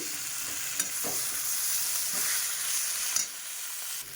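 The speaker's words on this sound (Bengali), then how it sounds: "দেখো সমস্ত মশলা দিয়ে ভালো করে কষিয়ে নিয়েছি, লাল লাল হয়ে গেছে।" Ground coriander and cumin fry in oil in a pan for a tomato dish, giving a steady close sizzle with a few sharp clinks from the stirring spoon.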